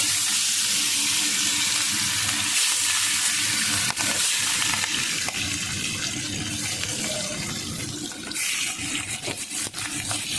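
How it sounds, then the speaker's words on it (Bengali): Fish frying in hot oil in a wok produces a loud, steady hiss and crackle, with sharp clicks and a few clatters cutting through near the end. "মাছ ভাজা হচ্ছে চলছে"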